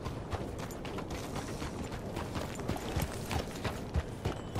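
Horse hooves clip-clop at a steady walking rhythm in the video game Red Dead Redemption 2, close and fairly soft, with faint mechanical creaks and tack rattles mixed in.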